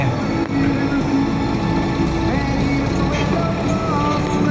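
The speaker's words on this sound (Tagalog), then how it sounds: "Traffic kahit saan." Congested city street traffic in Metro Manila, a dense, continuous rumble of idling and crawling vehicles with engine drone and faint mechanical whines, loud and close throughout.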